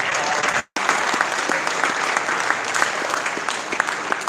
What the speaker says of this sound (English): And I'd like our kids to give your parents a big round of applause